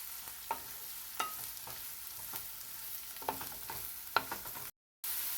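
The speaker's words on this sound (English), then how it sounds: "now we're going to let this fry until it's golden brown" A tablespoon of garlic sizzles as it fries in a pan for creamy cheesy pasta, with a constant hiss and several crisp spatula taps while it is stirred, close up with no talking and a brief drop to silence near the end.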